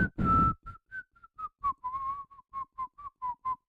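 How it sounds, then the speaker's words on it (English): A person whistles a catchy melody close up, a rapid run of short clear notes after one longer opening tone, slightly uneven and breathy, with no other sound or talk. "I just failed at whistling that so bad."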